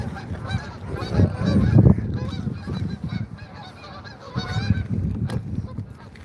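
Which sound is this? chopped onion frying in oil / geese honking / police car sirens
geese honking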